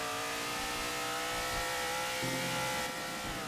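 A NASCAR racing truck engine roars in the Roblox Driving Empire video game, a loud sustained high-revving drone with a brief shift in pitch midway, no talk over it.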